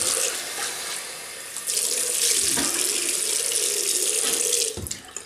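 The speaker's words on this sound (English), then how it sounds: "And we'll rinse." A water tap runs into a sink for rinsing after a shave with an open comb safety razor, giving a loud, steady splashing gush that swells partway through and cuts off near the end.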